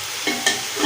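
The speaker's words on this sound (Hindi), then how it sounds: "चिकन हमारा बिल्कुल फ्राई हो चुका है" Chicken fries in a pot while a spoon stirs it, giving a brief steady sizzle with two quick scraping strokes close up.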